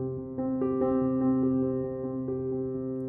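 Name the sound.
beginner piano song played faster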